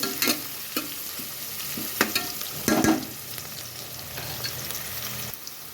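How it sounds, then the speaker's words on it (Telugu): Onions, green chillies, curry leaves, cardamom, cinnamon, cloves and ginger fry in a pan for Telangana-style spicy chicken, a continuous close sizzle punctuated by several spatula scrapes and stirs, with no speech. "చూడండి వేగుతున్నాయి కదా ఆనియన్స్ పచ్చిమిర్చి కరివేపాకు ఇలాచి దాచిన చెక్క లవంగం అల్లం వేసుకున్నాం"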